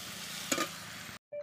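Potatoes fry in a pan for a chicken dish with onions, giving a steady, close sizzle with a brief stirring clatter midway, then a sudden cut to near silence and a short clink.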